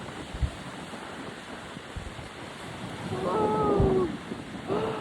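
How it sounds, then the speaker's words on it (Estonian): Ocean waves and surf heard from a boat, washing and rolling with wind buffeting the microphone, swelling louder midway, and a few brief voices. "Seal, vaata mis see lainetus on praegu."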